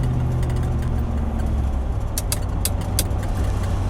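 A Land Rover Defender 90 50th Anniversary drives steadily behind a truck with a low engine drone and road rumble inside the cabin, with a few brief clicks near the end.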